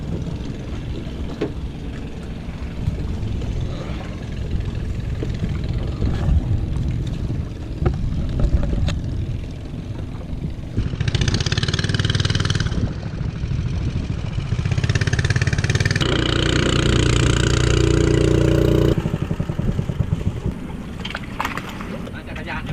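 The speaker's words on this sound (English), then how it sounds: "so now I'm heading on the boat across the pier to the really green side of the river over here" River ferry boat crossing the river in Bangkok toward the green Bang Krachao side, its engine a steady low drone mixed with wind noise and water, rising louder in the second half.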